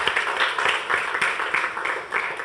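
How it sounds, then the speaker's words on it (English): Audience applause at a book launch for Songezo Zibi's The Manifesto; a small crowd claps in a brisk, uneven patter for a couple of seconds, fairly close and with no speech over it. "We can give him a clap, a round of applause."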